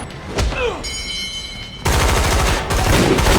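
Gunfire erupts in a Daredevil TV episode, a sudden dense and sustained burst of shots that takes over after a quieter stretch with faint voices beneath.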